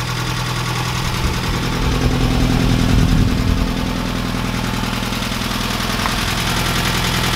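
Drivetrain of a 1969 Ford Capri running in fourth gear, a steady low engine and differential drone with a slight rise in the middle, alone and fairly loud throughout.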